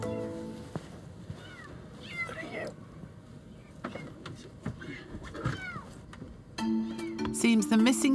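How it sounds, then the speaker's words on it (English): A kitten that has fallen beyond a loft ceiling gives faint, scattered meows at a distance, heard on and off against quiet background noise. "In typical cat fashion, all the moggies have made themselves scarce, but Matt can definitely hear one"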